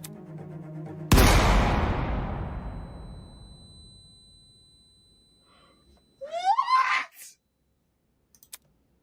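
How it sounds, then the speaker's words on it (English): A single sharp gunshot in the game Corpe: Project Edens Garden, a loud close bang with a long decaying echo tail, followed by a short gasp-like voice sound and a couple of faint clicks. "The sound of a gunshot echoed in our ears."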